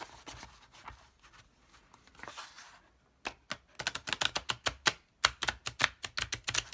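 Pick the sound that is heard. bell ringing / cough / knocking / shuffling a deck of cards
shuffling a deck of cards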